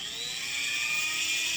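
High-speed flex shaft drill running steadily for a moment, a thin, constant high-pitched whine with a low hum beneath, close and fairly quiet, with no talking.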